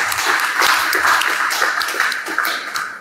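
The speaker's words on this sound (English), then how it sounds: "A round of applause to Nawaz Muhammad" An audience at an Islamic Relief volunteers' gathering in Johannesburg applauds a regional manager, loud close clapping with distinct individual claps that fades slightly near the end.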